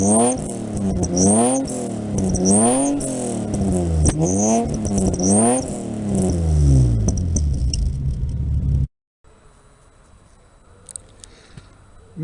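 Repainted car engine revving hard and close in repeated rising and falling sweeps, then cutting out abruptly to a faint low background.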